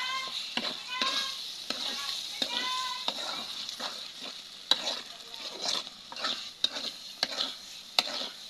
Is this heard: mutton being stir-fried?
yes